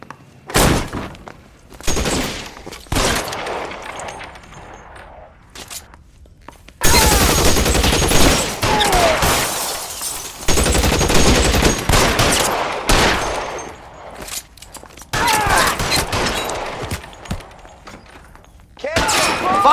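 Shootout gunfire from the crime video game L.A. Noire, with repeated loud shot bursts and volleys, a sustained heavy barrage in the middle, and shouted in-game voices between the shots.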